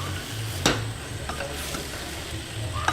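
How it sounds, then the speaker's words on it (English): Black beans are stirred in a hot pan for vegan tacos: a steady low sizzle with a single spoon scrape against the pan partway through. "Go ahead and give your beans a stir."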